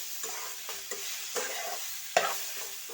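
Young radish, potato, carrot and chili fry with kachki fish for a spicy jhal, a steady sizzle broken by repeated scraping stirs of a spatula in the pan, close and clear.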